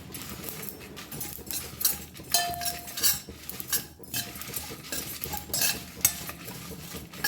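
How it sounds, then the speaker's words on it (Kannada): Dried chillies, curry leaves and sesame seeds dry roast in a pan while a utensil stirs and scrapes the metal in irregular clinks, with a soft sizzle underneath and no voices. "ಒಂದು ಸ್ವಲ್ಪ ಕರ್ಬೇವಿನ ಸೊಪ್ಪು, ಒಂದು 10 ಎಸ್ಳು ಹಾಕ್ಕೊಂಡು ಇದನ್ನು ಸ್ವಲ್ಪ ಡ್ರೈ ರೋಸ್ಟ್ ಮಾಡ್ಕೊಳ್ಳಿ"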